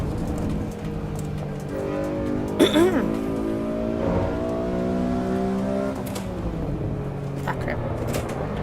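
A Honda NSX engine in the Assetto Corsa Evo racing game revs and climbs through VTEC, its rising tones held under steady talk, with brief sharp tire or bump noises near the middle.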